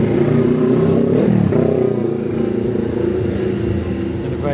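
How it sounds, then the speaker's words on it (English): A very loud motorbike in Key West roars and revs close by, a gravelly engine note that rises and falls as it passes, with a faint voice underneath. "And a very loud motorbike."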